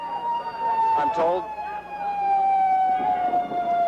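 A wailing ambulance siren sweeps up and down nearby over traffic noise in front of the Washington Hilton during the 1981 Reagan assassination attempt, while someone speaks briefly over it.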